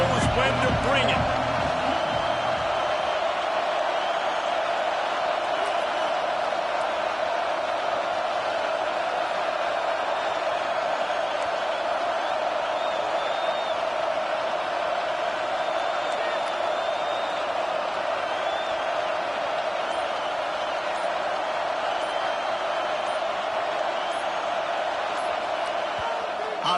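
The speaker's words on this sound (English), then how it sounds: "This crowd knows when to bring it." Stadium crowd at a Nebraska vs LSU college football game roars in a steady, loud wash that holds for the whole stretch, with a commentator talking over it.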